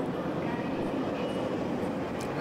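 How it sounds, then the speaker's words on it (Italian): A subway train rolls into a station in the Syndicate video game, a steady, loud, low rumble with rail noise that holds evenly throughout, with no voices over it. "Metropolitana."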